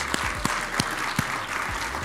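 A conference audience at a LibertyCon evening social applauds the speakers with a steady wash of many hands clapping, with a few sharper, closer claps standing out.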